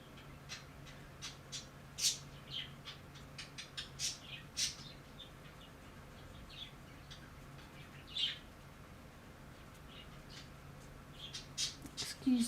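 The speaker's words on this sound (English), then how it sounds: "Excuse the birds in the background, they've just woken up, so they're going to be quite noisy." Birds squawk and chirp in scattered sharp bursts, some close and loud, others fainter, over a low steady hum.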